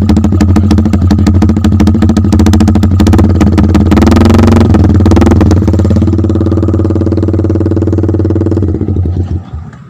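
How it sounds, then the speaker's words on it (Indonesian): A Yamaha Vixion motorcycle engine with modified timing runs loud and close, a steady throbbing idle with rapid clattering firing pulses and a brief rev near the middle, fading slightly at the end with no speech. "Ini bunyi seperti timing kuda."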